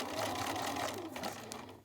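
A sewing machine straight-stitches through fabric pieces in a quick, even mechanical rattle that runs continuously and fairly quietly for about two seconds.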